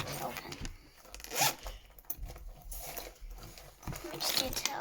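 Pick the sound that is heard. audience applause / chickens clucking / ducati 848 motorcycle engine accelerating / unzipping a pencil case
unzipping a pencil case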